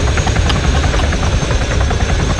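A helicopter in the Arma 3 video game, a loud, close, steady rotor and engine roar with no talk over it.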